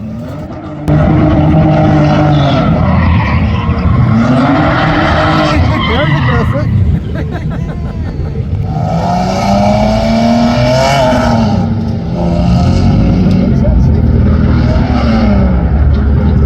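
A drift car with grippier rear tires fitted on the front slides around a track, engine roaring and tires skidding and squealing continuously and loudly up close, while voices talk over it.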